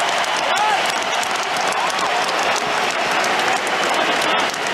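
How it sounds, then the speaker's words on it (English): Tennis crowd at the 2022 US Open men's final, Ruud against Alcaraz, calling out Ruud's name after a break of serve; a dense, steady roar of many voices with clapping mixed in, loud and continuous throughout. "they're not booing. They're shouting Ruud."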